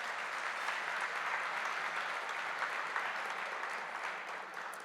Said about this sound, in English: One last applause.